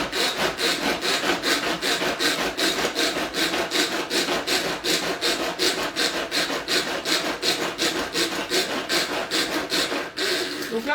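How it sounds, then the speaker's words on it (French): Pull-cord manual chopper hand-operated to finely chop raw courgettes, giving a loud, steady run of rapid rasping whirs repeated about three times per second for roughly ten seconds, then stopping near the end. "on n'hésite pas d'hacher assez finement car il n'y aura pas de cuisson pour les courgettes"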